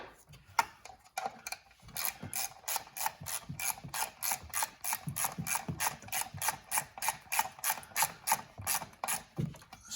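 A ratchet wrench with an 8 mm socket clicks in quick rhythmic bursts, tightening EGR valve bolts on a Dodge Grand Caravan, close and fairly quiet with no talking.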